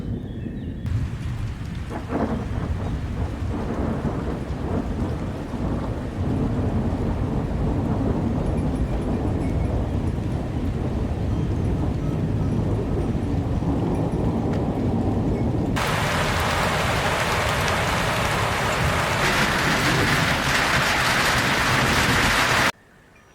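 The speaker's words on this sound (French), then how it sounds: "Il se pourrait bien qu'on ait un orage très très violent" A thunderstorm rolls on with long, heavy rumbles of thunder over steady rain, and then a loud, bright hiss of downpour takes over for the last stretch.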